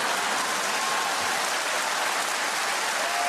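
Comedy club audience at a live stand-up show clapping, a dense, even wash of applause from a large crowd that holds steady throughout.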